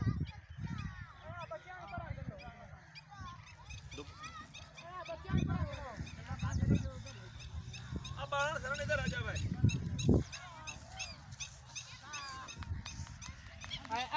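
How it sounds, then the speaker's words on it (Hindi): Waterfowl honking and calling repeatedly at moderate distance during a goose hunt with nets, mixed with people talking and outdoor background noise. "यहाँ पर कसीर तादाद में ये मुर्गाबियाँ हैं, आप देख सकते हैं"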